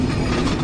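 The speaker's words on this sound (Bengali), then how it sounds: "আমাদের সফর সঙ্গী আন্তনগর চিলাহাটি এক্সপ্রেস ট্রেনটি পুনরায় আবার চলতে শুরু করলো রাজধানী শহর ঢাকার দিকে" The Chilahati Express intercity train gives a brief burst of loud, steady rumble and rail clatter as it starts moving again toward Dhaka.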